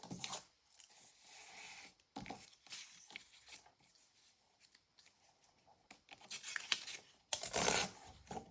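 Vintage book pages are torn and handled in a quiet room, with several separate bursts of dry ripping and rustling paper, the loudest coming at the end.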